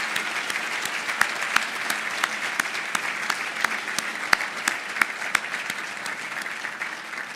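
Steady applause from an audience at an evening recognition event for sponsors, guests and Lead Me campaign supporters, dense overlapping claps with sharper individual claps standing out, sustained and moderately loud without talk.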